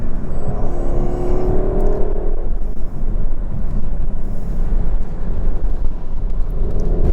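A Lexus LC500 with its V8 engine revs and pulls hard, a loud steady roar with a rising whine in the first seconds, heard from inside the car with no talking.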